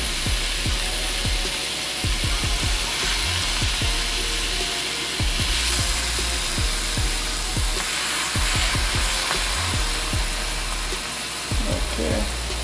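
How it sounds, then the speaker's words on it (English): Burger patty sizzling in a pan over a flame, a steady loud frying hiss broken by frequent clicking scrapes and taps of a utensil, continuous with no talking. "I'll just let it cook for a minute."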